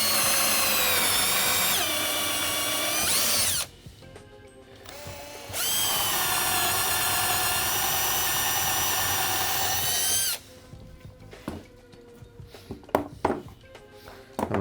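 A power drill runs loudly and steadily through a wooden plank into a drilling block for several seconds, stops, runs again, then gives way to scattered clicks and knocks.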